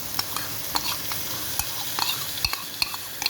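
Spices and yogurt sizzle and fry steadily in a pan for a potato and cabbage sabzi, with a continuous hiss broken by light scraping stir clicks, close and moderately quiet, without speech.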